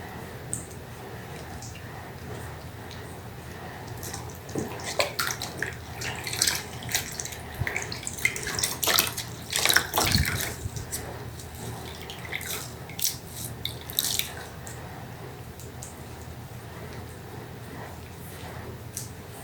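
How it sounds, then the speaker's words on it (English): Water splashing and trickling while a newborn baby is rinsed in a bath, soft intermittent pours and drips that grow busier midway, with faint room noise and no clear speech. "And then you rinse this."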